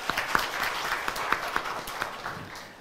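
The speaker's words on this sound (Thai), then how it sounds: "ขอเสียงปรบมือหน่อยครับ" Lecture audience applauding at a Thai special talk, a dense steady wash of many hands clapping with a few sharper claps standing out, moderately loud and sustained throughout.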